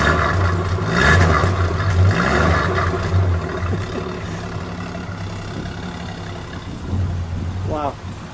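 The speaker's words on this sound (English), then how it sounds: "Give it a rev." The six-cylinder engine of a 1953 Studebaker Regal Champion Starliner idles with a low, lumpy rumble and is blipped in short revs, close by and fairly loud, with voices talking over it.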